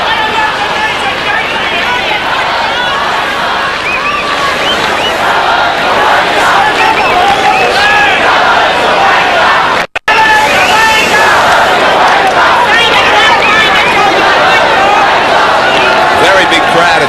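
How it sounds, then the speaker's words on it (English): A big crowd fills the ground at Kogarah for a 1990 NSW rugby league match between the Dragons and the Eels. Loud, continuous stadium roar and babble carry through the whole stretch, with a commentator talking over it. "Very big crowd at Kogarah, and a tough start for both sides."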